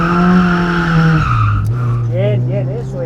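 A car being driven into a drift by a beginner learning to slide, its engine holding a steady droning note that drops in pitch midway while tyre squeal rises, loud and close, with voices talking over it.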